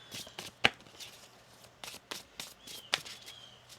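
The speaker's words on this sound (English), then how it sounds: "One more shuffle." A tarot deck is shuffled by hand, with soft riffling swishes and a couple of sharper card snaps, close and quiet in a still room.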